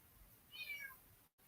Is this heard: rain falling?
no